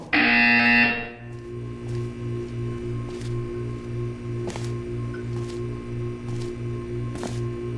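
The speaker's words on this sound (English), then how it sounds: "When you hear the buzzer, look up at the ceiling." A loud electronic buzzer from the video game Portal 2 in VR blares for about a second, then gives way to a steady low pulsing hum with faint clicks in the background.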